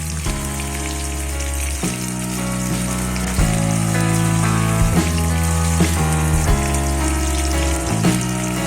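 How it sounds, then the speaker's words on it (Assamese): Okra frying until crisp in an iron wok gives a steady hiss of hot oil that runs through the whole stretch, partly overlaid by sustained background music with shifting notes. "এতিয়া আমি এখন আইৰণৰ কেৰাহী লম আৰু তাত ভেন্দিখিনি ফ্ৰাই কৰি লম ক্ৰিস্পি"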